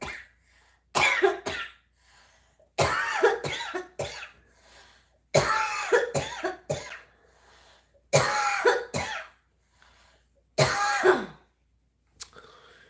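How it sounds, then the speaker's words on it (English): Coughing in repeated bursts, about five separate fits of harsh hacking coughs and throat clearing, each cluster a few sharp barks close to the microphone, with short quiet gaps between them and no speech. "It's the sound of coughing."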